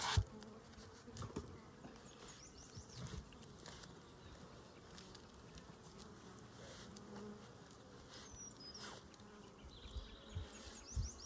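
Honey bees buzz around an open hive during an inspection of a small colony, a soft continuous droning hum with a few brief louder passes and light rustling nearby.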